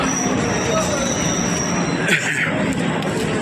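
A train pulls into Nialipur station, its wheels squealing and rolling loudly and steadily over the rails, with a brief sharper screech partway through and a busy platform murmur underneath.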